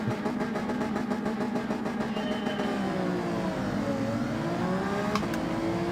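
An Alfa Romeo 155 race car in a racing game launches off the start line, its engine revving hard and climbing steadily through the gears, with other cars roaring close alongside.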